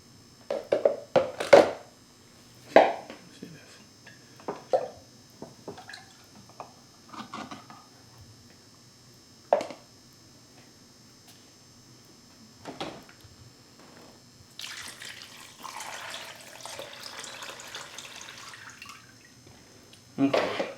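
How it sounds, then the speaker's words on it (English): Water is poured and splashed as a bowl is rinsed and salt-water brine is tipped back into a jar for pickled corn, with scattered drips and clinks early on, then a steady pouring rush near the end. A voice speaks intermittently. "I'm going to rinse out the bowl, and I'm going to pour the salt water solution back into the jar."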